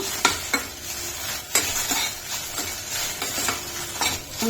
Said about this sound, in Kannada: ಫುಲ್ ಸಣ್ಣಂಗ ಉರಿ ಮೇಲೆ ಸಣ್ಣಂಗ ಹುರಿಬೇಕು ರೀ